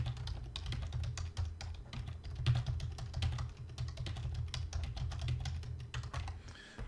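Computer keyboard typing during coding, fast irregular clicking keystrokes close by, steady for several seconds with no talking.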